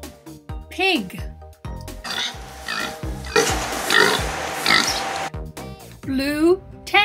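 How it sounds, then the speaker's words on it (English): Several short grunting oinks from a pig, loud and close, following one another in quick succession and ending in a squeal-like call, with a voice speaking briefly at the start. "Pig."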